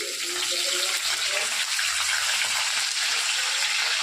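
Garlic fries in oil in a pan, giving a steady, close sizzling hiss that holds at an even level for several seconds.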